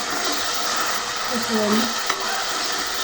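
Manchurian simmering in soy sauce sizzles steadily in a pan while a spoon stirs it, with a few short scraping strokes close by and no talking.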